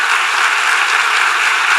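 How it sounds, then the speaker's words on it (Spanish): Dense, steady applause from a church congregation during a sermon, loud and continuous without any talking over it. "Yo creo que hay que darle ese aplauso al Señor."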